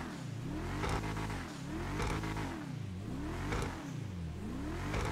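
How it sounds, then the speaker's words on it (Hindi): A flame-spitting car in the video game GTA 5 revs hard and repeatedly, its engine note swooping up and down in loud, close, rhythmic surges with no talk over it. "ये देखें फ्लेम छोड़ती गाड़ी, फ्लेम छोड़ती है, क्या कमाल गाड़ी है"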